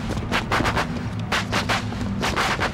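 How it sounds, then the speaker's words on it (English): Rapid bursts of fireworks bangs, sharp cracks that arrive in clusters close together over a low, steady background rumble. "Huh. Fireworks."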